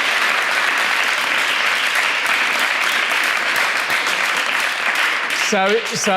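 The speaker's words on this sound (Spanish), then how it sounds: "vamos a dar un aplauso" A roomful of listeners claps loudly and continuously, a dense sustained ovation that carries on until a voice breaks in at the very end.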